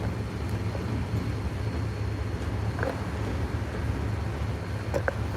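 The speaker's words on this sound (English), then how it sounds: "the pulsating engine sounds" Low, steady throbbing engine of a towboat pushing barges northbound on the Mississippi below Baton Rouge, a continuous pulsing drone heard from nearby with faint water and wind noise and a couple of small knocks.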